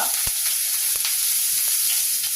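Onion sizzles steadily in hot oil with curry leaves and ginger, a dense continuous crackle with a few soft stirring taps.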